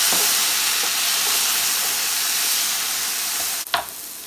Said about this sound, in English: I'm going to add a little water to this to help that steam.